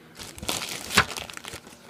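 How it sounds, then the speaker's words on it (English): Crinkly plastic bag of a microwave meal being pulled and torn open at close range, with scattered crackling and rustling and one sharper tearing crunch midway, heard alone. "Can't fight my way into a plastic bag."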